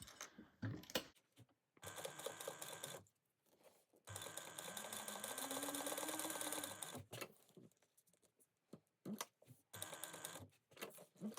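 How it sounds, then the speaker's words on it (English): A home sewing machine stitches down a fabric tab in several bursts, its rapid mechanical clatter running steady for a few seconds at a time with pauses between, close and fairly quiet. "we're going to sew it down on both sides at 1/8 of an inch"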